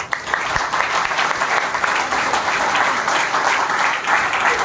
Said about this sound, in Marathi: सर्वप्रथम आपण पूजास्थान टीमसाठी जोरदार टाळ्या वाजवायच्या आहेत